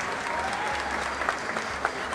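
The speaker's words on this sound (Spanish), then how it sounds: "A ver que se escuche el aplauso para las mamás." Audience applause for the mothers at the election and coronation of the child Huipil Queen in Cuetzalan: a steady wash of many hands clapping, moderately loud, with a low hum underneath and a couple of sharper claps near the end.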